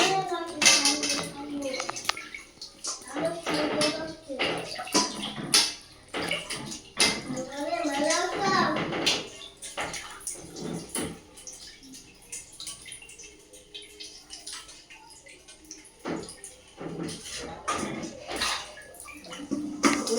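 Chicken feet are washed by hand in water, with splashing and sloshing that comes in uneven bursts, some louder and some softer. Voices chatter intermittently over the water sounds.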